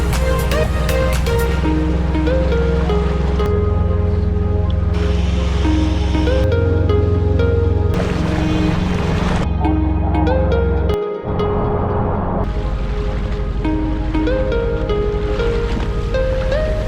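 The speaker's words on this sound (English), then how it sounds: "it was time to take a little ferry to Fisherman's Wharf" Continuous rush of water and wind with a low engine rumble underneath, steady and fairly loud throughout, as a small ferry crosses open water to Fisherman's Wharf in Victoria, British Columbia.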